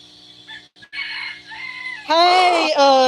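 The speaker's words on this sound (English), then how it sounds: "We're doing names for the chickens." Young backyard chickens make close, shifting clucks and squawks that build into a loud, drawn-out crowing-like call near the end, with a voice heard briefly among them.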